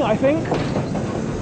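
A Class 25 diesel locomotive trundles past hauling a goods train of mineral wagons at a heritage gala, a rumbling rail noise with faint wheel clatter under a man's brief spoken remark.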